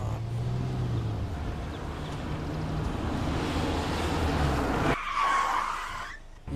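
A car in a Pennywise-themed video game brakes hard and skids to a stop, a continuous rushing tire screech over engine rumble lasting several seconds, ending with a brief higher squeal.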